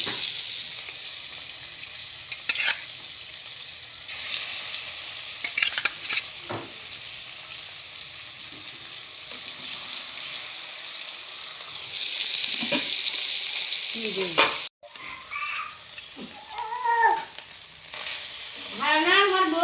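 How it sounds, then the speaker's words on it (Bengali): Fish fries in a pan with a loud, close sizzle and spatula clatter that swells, then cuts off abruptly. Quieter clinks and brief vocal-like sounds follow. "মাছ ফ্রাই করতেছি"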